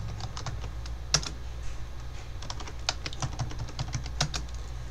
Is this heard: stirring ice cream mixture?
no